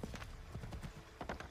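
Horse hoofbeats in Assassin's Creed 3, a quick, uneven clip-clop of several close hoof strikes on the ground, with soft pauses between clusters.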